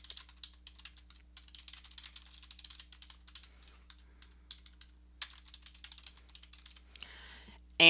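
Light, irregular keystrokes tapped on a computer keyboard, quick clicks scattered steadily over a faint hum, ending in a louder burst of clatter.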